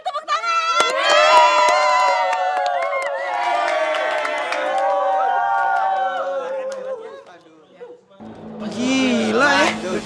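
Children in a group cheering and shouting together, loud and lively, with excited voices overlapping for several seconds, a brief lull, then another burst of high-pitched cheering.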